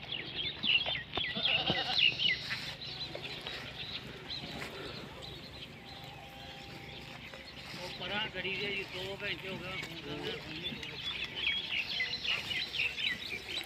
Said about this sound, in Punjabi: ਇਹ ਜੀ ਭਾ ਬੂਟੇ ਦੀਆਂ ਬੱਕਰੀਆਂ ਨੇ, ਵੇਖ ਲਓ ਤੁਹਾਡੇ ਸਾਹਮਣੇ ਨੇ